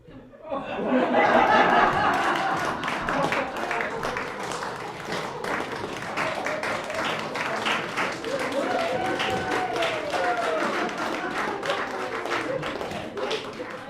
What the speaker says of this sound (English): Let's applause for each one individual so we can compare.